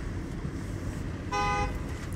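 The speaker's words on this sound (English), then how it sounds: "who's honking that horn?" A single car horn honks for about half a second at a residential construction site, where tile and siding crews are working. The horn sounds clear and fairly close above a steady roar of road and engine noise.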